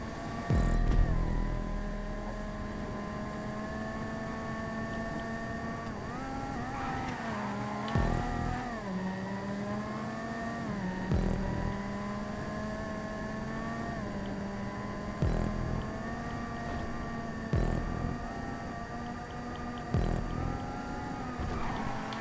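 Race car engines in GTA 5 drone steadily, a sustained multi-layered whine that dips and climbs in pitch through gear changes and corners, with occasional brief thumps, running continuously with no talking.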